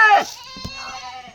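A milking goat, a mother sold along with her young female kid, lets out one close, loud, quavering bleat, followed by a few quieter rustling sounds nearby.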